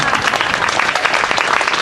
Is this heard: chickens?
no